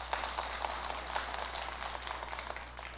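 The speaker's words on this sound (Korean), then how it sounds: "여기는 박수들을 잘 치시는가 봐요" Faint scattered applause from an audience at a Sunday dharma talk in a Buddhist temple, a soft crackle of clapping hands heard at a distance under a steady low hum.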